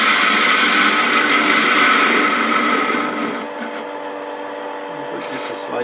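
A metal lathe cuts away waste material on a threaded workpiece, a steady whirring machining noise that drops in level partway through and continues more quietly to the end.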